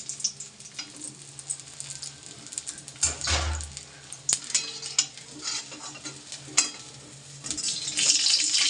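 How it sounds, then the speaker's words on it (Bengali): Fish fries in a pan with a soft, continuous sizzle, broken by close scraping and clinks of a utensil stirring and turning the pieces, growing louder near the end. "মাছটা মনে হচ্ছে ভাজা হয়ে গেছে আমি এবার মাছগুলোকে তুলে নেবো"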